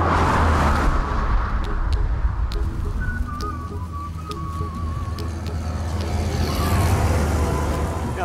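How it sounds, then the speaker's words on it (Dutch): A bus pulls up in a village in Friesland, its engine rumbling loud and steady with a high whine rising over it, while birds call faintly in the background. "Ja, het is wel een bus."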